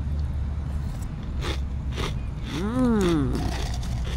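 A crispy snack crunches in a few sharp bites at close range over a steady background hum, with a brief voice sounding partway through.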